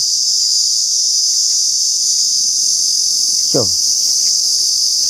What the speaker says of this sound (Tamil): சில்லுவண்டு சத்தம் தான் காதை பழக்குது, கொயங்குது